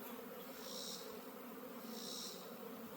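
Honeybees buzz softly around an open hive in a steady, faint hum, with higher whining swells as individual bees fly close by.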